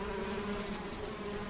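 Bees hum steadily and continuously around a hive, a close, even drone that holds without breaks or voices.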